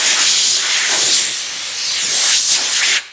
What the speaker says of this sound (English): Hit it with a little compressed air so we can get a better view.